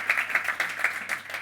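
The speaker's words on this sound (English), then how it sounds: "Give her a bit of a round of applause here so that we know we have an audience." Applause from a summit roundtable panel audience, a short burst of many hands clapping in a fairly steady patter with no talk over it.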